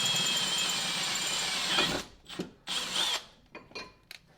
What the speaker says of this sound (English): Now that I got all 3 holes drilled out